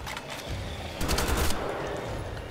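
Rapid bursts of gunfire cut down zombies in the shooter game Wolfenstein: The Old Blood, dense and loud, with the heaviest volley in the middle of the stretch.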